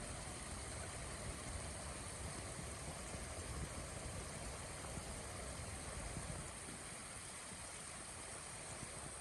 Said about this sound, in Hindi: झरना बहुत तेज बह रहा है